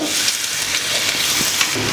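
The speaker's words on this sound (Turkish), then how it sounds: "Yağımız çok hafiften ısındı. Soğanları ekliyorum." Onions sizzle in lightly heated oil in a pan, a loud steady broadband frying hiss with small crackles, close and continuous with no voices.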